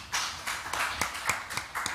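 A few people clap for Professor Bach after a lecture at a scientific ethics session, sparse distinct claps in an uneven rhythm, fairly quiet in a room.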